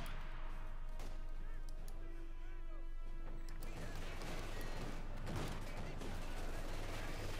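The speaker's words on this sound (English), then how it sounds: "several machine gun crew members being gunned down by the armoured car" Dense gunfire and crashing impacts from a battle in the video game Company of Heroes 2, as an armoured car guns down machine gun crews, a continuous busy clatter of shots layered with background game sounds.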